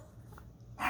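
A puppy snorts and sniffs at a door, a few short close breathy snuffles ending in a louder burst of air.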